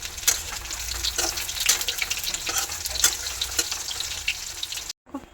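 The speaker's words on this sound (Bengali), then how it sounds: "এগুলো কড়াই দিয়ে দিয়েছি, এগুলো ভাজা হচ্ছে" Soya chunks dipped in batter for crispy koliwada pakoras fry in oil in a wok, with a lively close sizzle and irregular stirring clacks before it drops to silence.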